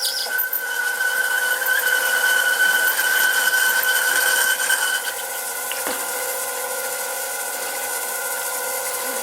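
An old, slow lathe boring metal with a carbide insert boring bar drones with a steady tonal hum and light scraping, close and continuous, shifting slightly partway through.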